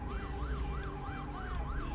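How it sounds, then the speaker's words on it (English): Emergency vehicle sirens in Euro Truck Simulator 2 wail in a fast, regular rising and falling cycle, faint and steady, heard over the low rumble of the truck. "Wherever those sirens are, I don't see them in the mirrors"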